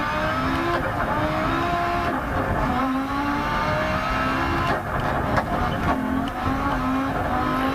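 A turbocharged rally car climbs Pikes Peak on dirt in a racing game, its engine droning and revving continuously with shifting pitch, tires scrabbling on gravel, no voices over it.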